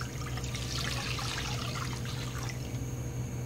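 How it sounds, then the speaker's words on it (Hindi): Milk is poured into a kadhai as a steady liquid stream, continuous and close, with no talk over it. "अब हम कढ़ाई लेंगे। सबसे पहले हम दूध डालेंगे।"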